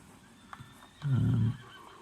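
A single horse whinny in the video game Red Dead Redemption 2 rises briefly out of quiet background, close and fairly loud, lasting about half a second.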